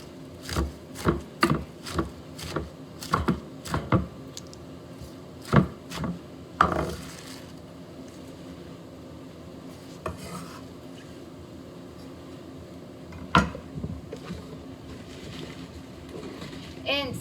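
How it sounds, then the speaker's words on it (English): Sharp knife chops vegetables for stew on a cutting board, a quick run of rhythmic strikes at the start, then scattered single chops with quiet pauses between. "finish chopping our vegetables"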